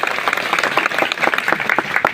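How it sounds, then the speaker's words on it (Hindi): A crowd at a public gathering in Sirohi bursts into hearty applause, a dense, lively stream of overlapping claps close by with no talk over it. "और उनके लिए एक बार जोरदार तालियां बजा दो।"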